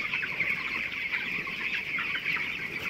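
About three thousand twenty-day-old broiler chicks in a poultry farm shed make a dense, constant chorus of cheeps and clucks, busy and close with no speech.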